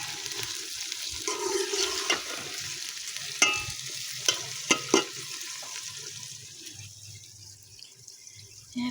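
Okra frying in a pan for a desi-style okra and meat dish in a Pakistani village kitchen, a steady close sizzle with a few sharp clinks and scrapes of stirring in the middle.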